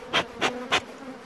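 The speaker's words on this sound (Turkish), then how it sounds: "Arılar aslında çok da hırçın." Honey bees around a hive on a chestnut-covered mountain buzz past in three quick, loud, close bursts, with a faint hum between them and no talking.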